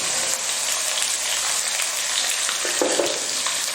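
Garlic dropped into hot sesame oil with ginger and popped mustard seeds for a village-style tuna fish pickle, giving a steady, close sizzle throughout with a brief clink of a utensil near the end.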